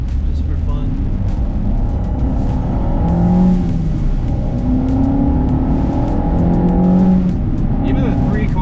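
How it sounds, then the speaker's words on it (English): A Renault Clio 172 pulls hard at full throttle with a loud, continuous engine roar that rises in pitch across the run. It is heard from inside the car, with no talk over it. "So we'll do another little pull right here, just for fun."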